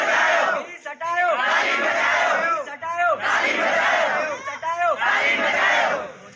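Secondary school students at a protest chant loudly in unison, repeating rhythmic slogans in several strong bursts, with a large crowd's voices close and filling the space.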